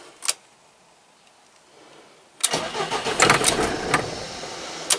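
A 1986 Fiat Talento van engine cranks and catches at about 2.5 seconds, running roughly with uneven revving for a couple of seconds before faltering, heard close with no talk after a brief click at the start.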